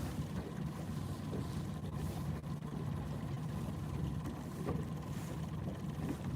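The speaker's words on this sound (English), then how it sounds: "Somebody must have whacked off their exhaust pipe." Distant boat engine with a broken-off exhaust pipe, a rough, steady low drone carried across the water, faint and unbroken, with no talk.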